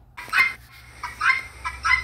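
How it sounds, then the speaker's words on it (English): Guinea fowl giving three loud, harsh, rasping calls at an even pace, each a short grating burst, with no talking. "There's the guinea fowl."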